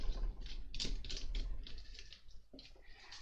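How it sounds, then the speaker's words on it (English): A screwdriver turns a screw down onto a wire terminal on an X-Wing model, giving close, small clicking and ratcheting mechanical ticks in quick irregular bursts with short pauses between. "And we'll screw that down."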